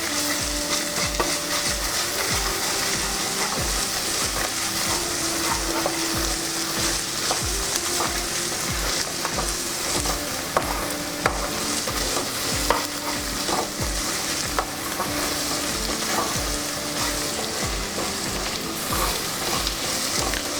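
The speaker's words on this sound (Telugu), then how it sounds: "1 స్పూను అల్లం వెల్లుల్లి పేస్ట్. ఇది కూడా కొద్దిగా ఫ్రై అవ్వాలి." A spoonful of ginger-garlic paste fries in a pan for a prawn and egg curry, with a loud, continuous sizzle and steady scraping from stirring throughout.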